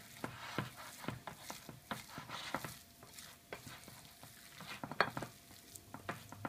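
A wooden spatula works through a thick homemade burger mixture in a bowl, giving repeated soft scraping and thudding strokes at close range with no talk.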